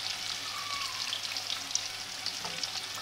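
Batter-coated chicken threads fry over a medium flame with a strong, continuous bright sizzle close up and occasional light stirring clinks, no voices.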